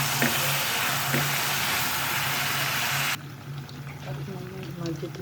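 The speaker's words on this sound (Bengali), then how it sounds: "পেঁয়াজ ভাজা হয়ে গেছে, এখন আমি এর মধ্যে টমেটো দিয়ে দিয়েছি।" Tomatoes sizzle in a pan of already-fried onions, a loud broad hiss for about three seconds before dropping to a quieter background with faint clinks, low hum underneath.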